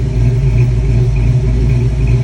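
Ford Mustang engine idling after a valve spring and roller rocker install, a loud, close, steady low rumble with a slight uneven chop throughout and no talking.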